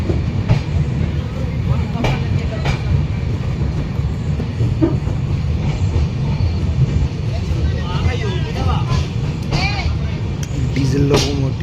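Diesel-hauled Uttar Sampark Kranti Express rolling between Katra and New Delhi, a loud, steady rumble of wheels and carriage with rhythmic clickety-clack over rail joints throughout, heard from inside the coach.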